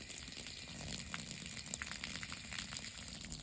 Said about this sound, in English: you want to flush out the hose as well for a few seconds, maybe like 10 seconds